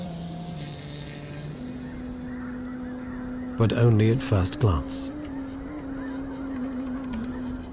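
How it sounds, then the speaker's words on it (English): Migratory Arctic geese wintering on a lake give a loud burst of overlapping honks for about a second and a half, with someone narrating over a low steady background hum before and after. "Migratory birds from the Arctic have arrived to spend the winter here."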